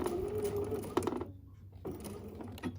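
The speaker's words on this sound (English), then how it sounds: "So I'm only going to sew to this clip, and then I'm going to stop" A sewing machine stitches fabric binding on a small project bag in quick, even bursts of whirring and clicking that stop partway through before starting up again, close and moderately loud.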